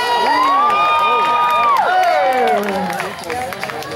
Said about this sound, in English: Let's give them a round of applause as they jump for their entertainment.